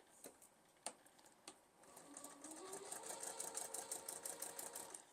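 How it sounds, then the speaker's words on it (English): A sewing machine stitches a seam line on a foundation paper pieced Sawtooth Star quilt block. A few soft clicks come first, then a quiet, steady, rapid stitching run builds and continues to the end. "So stitch it on that line between B1 and B2."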